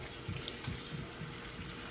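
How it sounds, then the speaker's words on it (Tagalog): Water poured into a cooking pot of spicy pork binagoongan with sitaw, a short soft splashing and trickling at low volume. "Dagdagan natin ng konting tubig"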